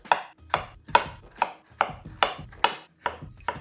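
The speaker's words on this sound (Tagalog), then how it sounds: "Talaga ako marunong humiwa ng sibuyas." A knife slices through an onion on a cutting board in a home kitchen, with eight crisp, evenly spaced chops at a steady rhythm. The chopping is close and clear, with no talking.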